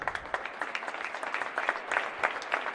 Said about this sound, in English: she'll get a standing ovation from the crowd